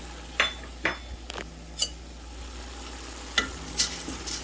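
Browning meat with dried minced onion stirred in a pan: a spoon clinks and scrapes in spaced strokes over a faint steady sizzle, close by.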